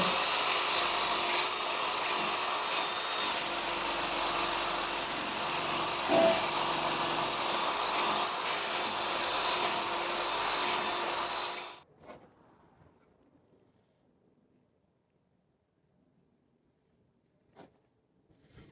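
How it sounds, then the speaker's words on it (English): A flap wheel grinds rust off the eye of a leaf spring on a 1969 Mustang Fastback during a traction bar install, a steady loud whirring abrasion for about twelve seconds, then cutting off abruptly into near silence with faint clicks. "Spring eye is a little bit rusty, so I'm going to clean it up with a flapper wheel."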